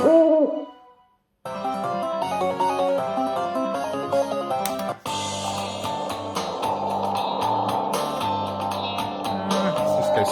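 A Timber Wolf slot machine plays a short synthetic owl hoot, then falls briefly silent before a busy run of chiming electronic melody and jingles, loud and close.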